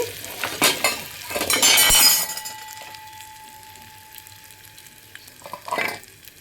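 A sharp burst of sizzling as hot tempering oil is poured into mango chutney, fading quickly into a faint hiss, followed by a few light stirring clinks.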